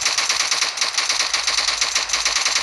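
A DMR rifle fires in rapid semi-automatic bursts in the BGMI mobile game, triggered by fast three-finger tapping: a dense, steady stream of loud, close, crackling shots with no talking.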